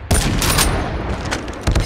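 Shotgun blasts in the mobile shooter Call of Duty Mobile, a loud close burst at the start followed by rolling gunfire echoes and a second sharp shot near the end.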